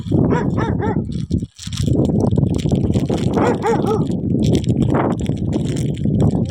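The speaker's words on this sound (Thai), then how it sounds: "จะเห่าทำไม อ้าว จะเห่าทำไมเนี่ย" A dog barks repeatedly outdoors, several loud close barks in quick bursts with a short pause midway, mixed with whimpering tones.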